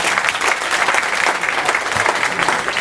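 An audience at an education summit gives a speaker a round of applause, a loud, close, steady burst of many hands clapping that runs the full length without pause.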